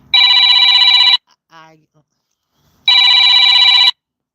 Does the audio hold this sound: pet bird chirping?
no